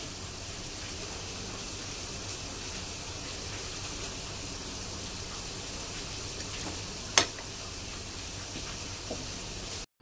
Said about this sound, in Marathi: पाणी गरम झालंय, त्याच्यामध्ये मी ना आता पालक टाकणार आहे.